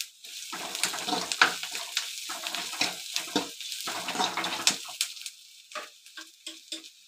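Onions frying in a pan for a snake gourd kootu, already browned, sputtering in uneven crackling bursts with a few sharper pops, close by and fairly quiet, with no talking.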